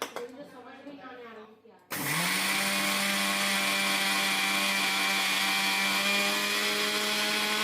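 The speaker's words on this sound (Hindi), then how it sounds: "कुछ सेकंड के लिए मैंने मिक्सर ग्राइंडर को ऑन किया था, देखिए पूरा पाउडर हो गया है।" Mixer grinder grinding sugar into fine powder, switched on abruptly after some quiet speech and then running as a loud, steady high whine with a rumbling motor tone for several seconds.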